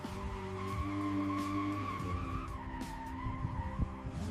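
A 2026 McLaren W1 with carbon ceramic brakes produces a sustained tire squeal and skidding whine under hard braking, loud and steady with engine rumble beneath.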